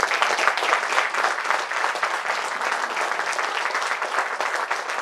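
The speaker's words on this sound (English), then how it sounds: "a huge round of applause for PCCM sir" A crowd claps steadily in sustained, even applause at a moderate level for a gathering honouring a respected leader, with no break in the dense clapping throughout.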